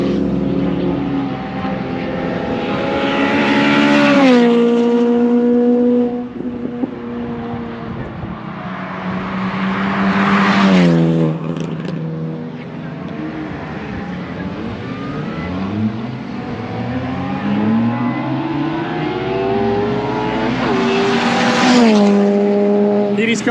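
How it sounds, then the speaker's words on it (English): A silver turbocharged compact BMW time attack car racing at Knockhill Circuit, loud engine notes climbing through gears in repeated rising sweeps with sharp shift drops and turbo whoosh, passing close and receding down the straight. "you can hear the turbo sucking all the way down the straight"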